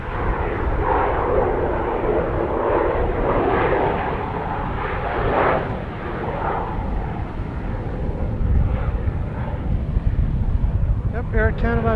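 Air Canada Airbus A321 airliner on final approach to runway 02 at Edmonton International, a loud, sustained jet roar with wind buffeting on the microphone and people talking over it.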